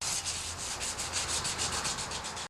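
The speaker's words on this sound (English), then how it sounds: "I'm just going to sand the inside of the rim with the 320 grit sandpaper" Steady rhythmic scraping of 320-grit sandpaper rubbed back and forth on the inside of a slightly rusty John Deere 316 tractor wheel rim, close and fairly quiet, with no talking.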